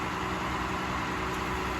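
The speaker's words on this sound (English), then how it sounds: "I hear the machine revving." Cat 352 piling rig engine running on a work site, a steady broadband mechanical roar with low engine hum, fairly distant and even for a couple of seconds.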